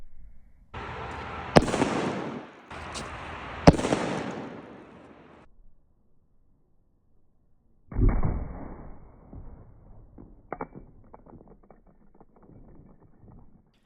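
Rogue Arsenal flash bang detonates on gravel, giving sharp loud cracks followed by hissing and crackling bursts, then a second blast with fading crackles and rattling debris, no voices.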